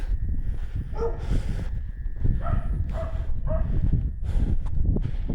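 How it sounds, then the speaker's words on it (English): Dogs barking in short bursts during an afternoon walk around Glen Eden, with yips and whimpers among several barks over steady outdoor background noise. "And it wouldn't be a video of me being barked by dogs."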